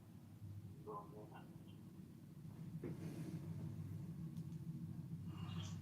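A steady low rumble of highway traffic rises slightly as someone walks to a car, with faint muffled voice fragments and scattered small noises over the continuous drone.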